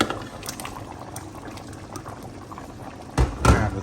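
Chicken menudo with chicken liver bubbling in a pot, a steady low simmer running under the whole stretch, then a couple of louder clanks or splashes near the end as more ingredients go in.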